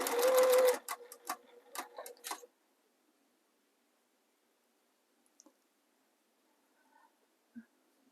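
A sewing machine stitches cotton piping closed in a quick run of rapid needle strokes, then stops in short bursts, leaving near silence broken by a few faint clicks.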